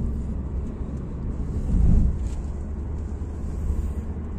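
Muffled low engine and road drone heard from inside a taxi in Riyadh, steady with a brief swell midway, no talking.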